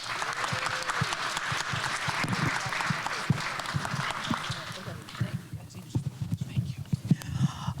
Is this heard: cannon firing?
no